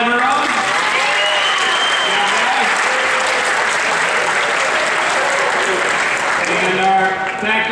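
Sustained, loud audience applause at the 2015 Timby Awards honoring the athletic training staff, a dense wash of clapping that carries on steadily with voices faintly mixed in.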